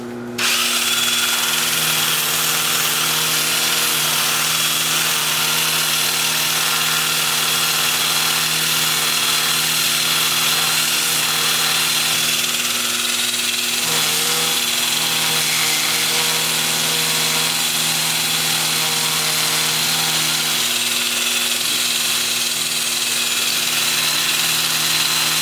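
An 80 to 400 grit two-inch sanding disc works a wooden bowl spinning on a wood lathe at about 350 RPM, a continuous loud whirring and motor hum with steady abrasive hiss and no talking.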